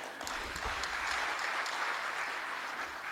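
Sustained applause from an audience at a formal government ceremony, a dense even wash of many hands clapping throughout at moderate distance.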